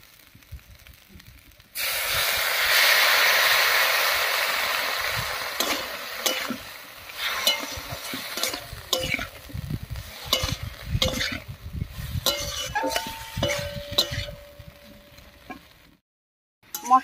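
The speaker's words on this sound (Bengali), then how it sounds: "মশলাটা দিয়ে একটু নাড়িয়ে নিয়েছি" Ground spice paste hits drumsticks and potatoes in a hot pan: a loud burst of sizzling, then scraping and clattering stirring strokes as the frying fades toward quiet.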